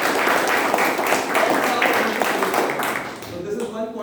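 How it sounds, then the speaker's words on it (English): Clapping from a group, fairly steady and moderately loud, with voices mixed in and the claps thinning out near the end. "Can we quickly do a good job of clapping?"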